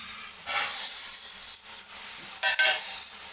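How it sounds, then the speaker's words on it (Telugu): Tomatoes tipped into a hot pan of broad bean curry, a close crackling sizzle with brief bursts and stirring scrapes, no talk. "టమాటాలు వేసేసుకుందాం"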